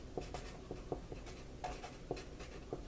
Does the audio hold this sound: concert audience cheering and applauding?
no